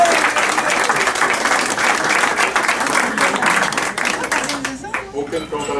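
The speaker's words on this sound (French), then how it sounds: "Ça mérite certainement des applaudissements." A crowd at a 100th birthday celebration applauds, with loud, dense clapping that thins out and fades near the end as voices emerge.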